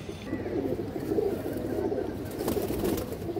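Pigeons cooing in a loft kept for racing, high-flying and colour breeds, a steady low murmur of overlapping coos that fills the whole stretch at moderate loudness with no talk.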